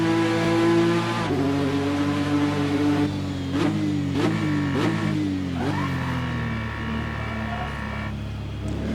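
Ford GT GTE race car engine from a racing video game, heard onboard during a lap: a loud, sustained harmonic drone that shifts pitch as the engine revs and changes gear, with several quick upshifts and no talk over it.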